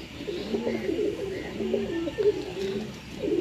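Pigeons cooing at a bird sale stall in Sarai Alamgir, several birds giving overlapping low rolling coos close by, steady and continuous throughout.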